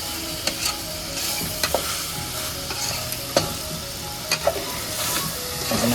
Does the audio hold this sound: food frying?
yes